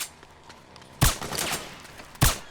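Suppressing gunfire in Metal Gear Solid 4, with two sharp, loud bursts about a second apart cutting through a low ambient battle rumble.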